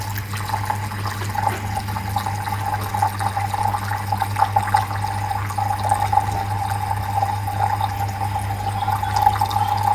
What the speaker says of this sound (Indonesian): Kemudian tinernya saya menggunakan tiner A sesuai dengan rekomendasi dari pabrik catnya.